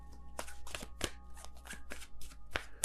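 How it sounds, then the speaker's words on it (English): Tarot cards being shuffled by hand, a quick series of crisp riffling and slapping bursts roughly every quarter second, close and fairly quiet with a low steady hum beneath. "Sorry, I'm being told to shuffle, so just bear with me."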